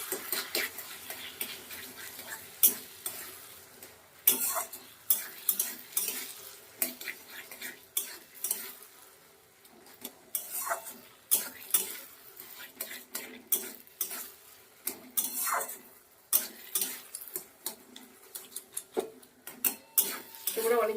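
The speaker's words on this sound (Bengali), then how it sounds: "মাঝে মাঝে নেড়ে দেবো, মানে পোড়া না লেগে যায়।" A utensil stirs and scrapes cauliflower mash in a pan, with repeated irregular clinks and scraping strokes over a soft sizzle, close and fairly loud, without any voices.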